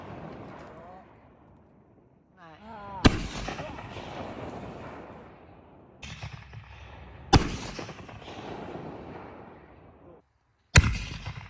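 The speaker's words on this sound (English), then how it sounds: "so we lit off some fireworks for them." Backyard Fourth of July fireworks go off in sharp, loud bangs, three or four blasts spaced several seconds apart, each followed by a crackling, hissing tail, with a brief whistle before the first.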